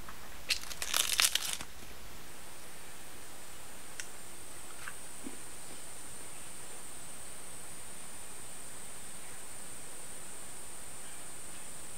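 Crisp crunching bites of fresh heart of palm eaten outdoors in the jungle, a loud burst of crunches in the first two seconds followed by near quiet.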